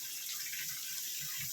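Water running from a household tap, a steady hissing stream heard close and continuous over the brief moment, with faint low gurgles underneath.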